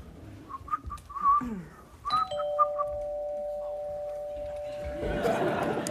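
A person mimics a doorbell for arriving party guests with whistled or sung ding-dong tones, followed by a long sustained ringing note as noisy chatter and laughter rise underneath.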